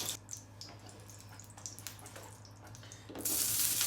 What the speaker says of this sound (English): A good way to see if your oil's hot, just take a little drop of water and stick it in there.